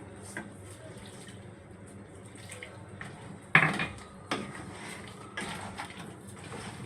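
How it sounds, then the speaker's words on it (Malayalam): Hot water splashes and pours into a pan of crab roast masala with a loud burst midway, followed by clinks of cookware and smaller splashes. "ചൂടുവെള്ളം ഒഴിക്കുക പച്ചവെള്ളം ഒഴിക്കില്ല"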